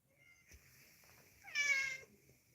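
A house cat gives a single drawn-out meow close by, faint but clear against a quiet room, with some soft background noise before it.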